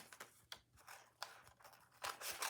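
Scissors trim a paper envelope in a string of close, quiet, crisp snips and crunchy cuts at an uneven pace, with no voices.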